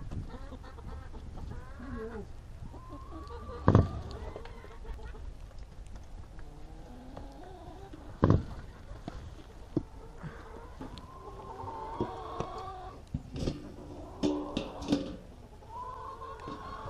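Backyard chickens on a rural property in Central Oregon clucking and squawking near and far, with a couple of loud close knocks or bumps and some background movement, no clear talking.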